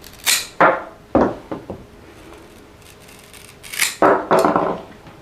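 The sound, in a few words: cutting off Philodendron Pink Princess plant stem sections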